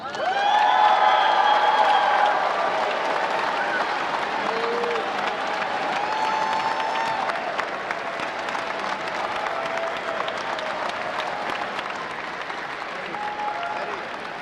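Sustained applause from a large high school graduation audience in a university arena, a dense wash of clapping with scattered cheers and whoops, loudest at first and then easing to a steady level.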